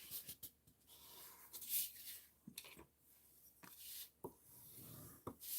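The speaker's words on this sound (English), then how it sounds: "So I'll start with folding and burnishing my card base." A sheet of basic white cardstock is folded and burnished by hand for a card base, giving soft rubbing and scraping strokes with a few sharp creasing clicks, close and quiet with no voice.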